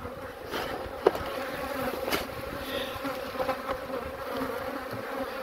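Dense honeybees buzz steadily during a summer inspection of a crowded beehive, with a close continuous hum and occasional clicks and knocks from frames being handled.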